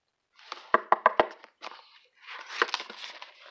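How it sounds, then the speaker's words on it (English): Several sharp knocks on a door in a quick burst of four, near and fairly faint, followed by softer rustling and movement in a quiet room. "So there's someone knocking on the door."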